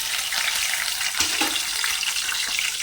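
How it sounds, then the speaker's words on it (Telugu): Dried red chillies fry in hot oil for a tempering, a steady dense crackling sizzle held close and loud throughout, with no talk. "ఇప్పుడు ఆయిల్ పెట్టేసుకున్నాను కదండి. ఫస్ట్గా మనం ఎండుమిరకాయలు వేసుకున్నాం"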